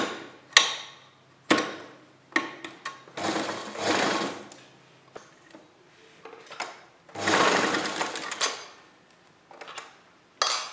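Sewing machine stitching pleats on kurta fabric in short bursts, each run of rapid needle clatter separated by pauses and small handling clicks, close and fairly loud.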